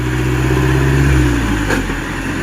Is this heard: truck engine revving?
yes